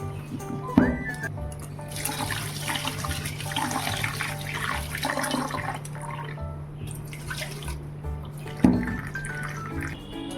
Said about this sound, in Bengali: এখন জল খেয়ে চালটা ধুয়ে দিচ্ছি